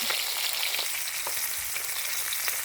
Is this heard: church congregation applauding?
no